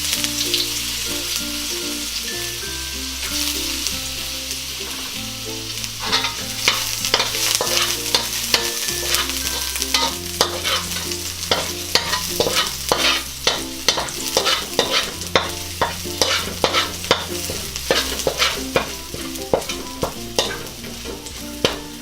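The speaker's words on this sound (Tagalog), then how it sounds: "Tapos igigisa lang po natin yung bawang." Garlic sautéing in olive oil in a pan for mussel sinigang, with a steady sizzle and repeated sharp scrapes and clacks of a utensil stirring, under loud background music with a pulsing bassline.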